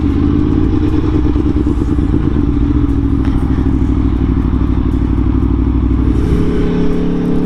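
A Tuono Factory motorcycle engine runs loud and steady throughout, with a dense, throbbing exhaust note and small shifts in pitch as the throttle is worked, without any speech.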